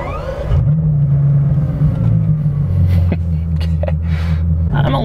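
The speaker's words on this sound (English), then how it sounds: "just so you can see what the Chiron looks like on the move" A Bugatti Chiron drives past with a deep, steady engine rumble that shifts pitch as it moves, loud and continuous, with no one talking.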